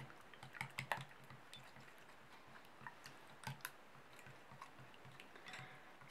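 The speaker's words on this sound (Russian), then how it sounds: "Взбиваем." Eggs and sugar whisked in a bowl: quick light clicking and tapping in uneven clusters, faint and close, over a soft steady background hiss.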